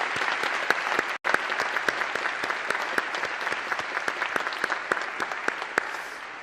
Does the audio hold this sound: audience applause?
yes